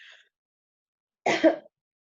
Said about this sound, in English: they do a dry cough